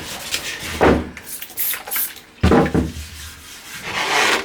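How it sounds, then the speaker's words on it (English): Close, uneven strokes of sanding on a homemade carbon fibre bike frame, rasping bursts separated by short pauses, with no one speaking. "I could sand that down all to 0. Just takes more work sanding"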